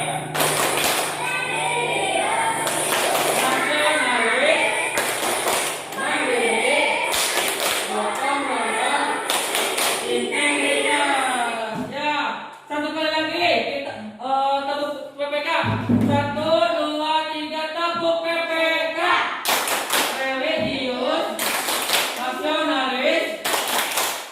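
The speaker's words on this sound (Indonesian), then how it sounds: "Kita akan melakukan tepuk PPK." Rhythmic hand clapping from a classroom group performing the tepuk PPK routine, sharp patterned claps in bursts mixed with voices chanting and talking throughout.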